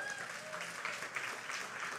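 A church congregation claps steadily and fairly faintly throughout a short stretch, forming a continuous patter of applause.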